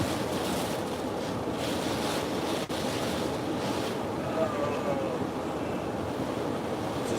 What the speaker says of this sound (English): it is us riding it out in a minivan in Hurricane Milton